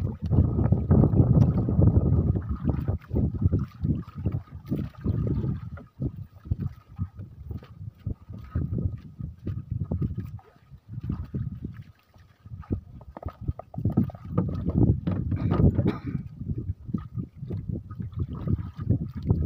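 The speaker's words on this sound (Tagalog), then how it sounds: "Grabe lakas ang hangin" Strong wind roars and buffets the microphone in heavy, uneven gusts on a fishing boat at sea, loud and continuous throughout.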